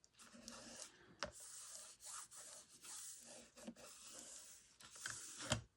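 Paper being burnished by hand while assembling a homemade recipe book, with soft repeated rubbing strokes, close and quiet, in uneven bursts with a few sharper taps.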